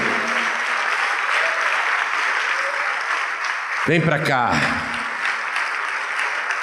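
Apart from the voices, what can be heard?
applause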